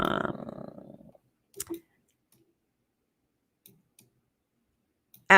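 A computer mouse clicks through document pages. Brief talk comes first, then a few sparse, quiet clicks follow at uneven intervals, and a short louder burst comes at the end.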